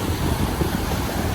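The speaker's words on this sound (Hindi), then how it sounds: "पानी की आवाज़ जो है ना वही" River water rushes below a bridge on a mountain road, a steady broadband roar close by with no voices.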